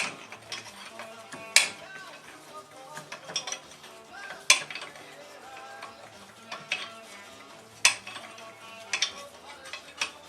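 Wrench working a seized bolt on steel suspension where an aluminum cross shaft is stuck in a steel tube, with sharp metallic clicks and ratcheting bursts spaced every few seconds between quieter scraping.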